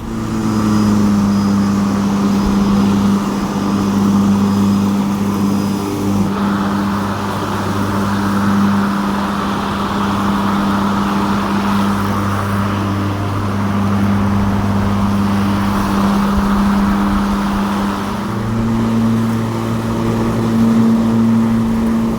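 A GTM BRM96 battery-powered riding lawn mower cutting grass, its steady electric motor drone and blade whine running continuously and close throughout, with slight shifts in pitch as it moves.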